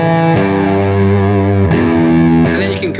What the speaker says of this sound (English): Then I've got a light fuzz.